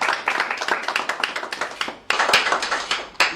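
A small audience at a photography contest prize ceremony in Cape Verde claps for the winners, giving sparse, distinct handclaps with a brief break midway before the clapping resumes nearby.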